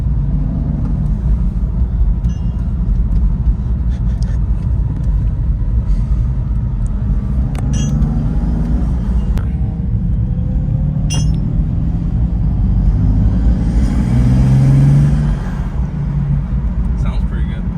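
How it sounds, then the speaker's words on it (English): A wrecked BMW M4 on the road, its engine giving a loud, steady low rumble from inside the cabin, with faint turbo whistle rising near the end and people talking over it. "You can hear the turbos though."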